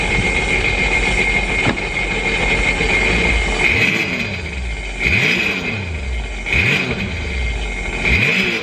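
A 2018 Sea-Doo GTX Limited 300 jet ski engine runs steadily out of the water after a ride, with its throttle blipped several times so the revs surge and fall back in repeated swells.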